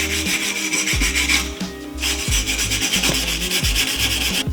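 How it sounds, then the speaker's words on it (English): Steady wire-brush scrubbing on rusty metal Volkswagen Golf Mk3 suspension parts, close and loud, a continuous rasping rub broken by rhythmic strokes and a short pause near the middle, with no talking. "I've sanded them down a little bit, but I just can't get much more done with this little wire brush"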